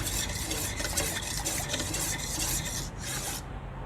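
A herbal medicine mixture for joint care is stirred in a container, giving a steady close scraping, rasping swirl that continues without pause, with no voices.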